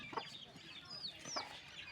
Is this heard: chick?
yes